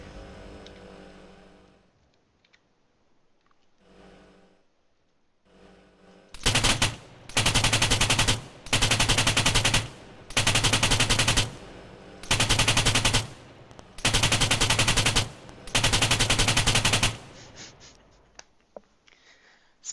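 Turret machine gun fire in the video game Arma rattles out in six loud, sustained bursts of about a second each, evenly spaced and separated by short pauses, after quieter low ambient noise.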